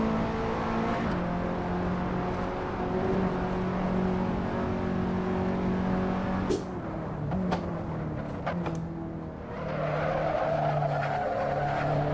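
A race car in Assetto Corsa spins out: a steady engine drone gives way to screeching tire skids and a few sharp bursts as the car slides, then a rough grinding roar as it settles, with no talking.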